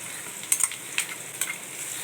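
Ground masala paste hits sautéed onions in a hot pan, giving a steady soft sizzle with a few brief crackling spurts, close and moderately quiet, with no voices.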